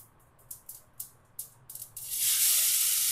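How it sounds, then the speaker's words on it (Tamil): Mustard seeds, crushed onion, tomato and curry leaves hit hot sesame oil: a few sharp pops and crackles first, then a loud, sustained hiss of sizzling up close. "கடுகு, இடிச்சு வச்ச வெங்காயம் அண்ட் தக்காளி, கருவேப்பிலை போடலாம்."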